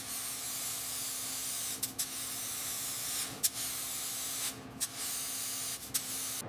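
Spray gun laying guide coat on the bodywork of a 1926 Bentley Speed Six Tourer under restoration, a steady close hiss running continuously with a few brief breaks between passes.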